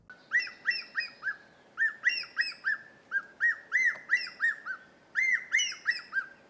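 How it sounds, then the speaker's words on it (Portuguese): Ornate hawk-eagle (gavião de penacho) song: a long series of loud, clear whistled notes delivered in rhythmic groups, repeated steadily and close with little background noise. "Esse é o canto do gavião de penacho."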